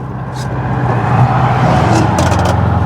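A 1972 Volkswagen Beetle engine drones loudly with a deep, rumbling exhaust note while driving, building slightly over a few seconds, recorded close from inside or near the vehicle.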